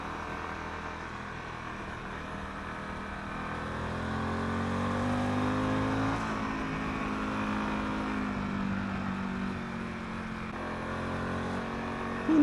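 A Harley-Davidson Pan America Special motorcycle riding a curving road, its engine a steady, loud drone with rising and falling pitch as it accelerates, mixed with wind rush throughout.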